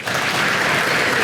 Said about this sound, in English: Let's give our seniors and their families one more big round of applause.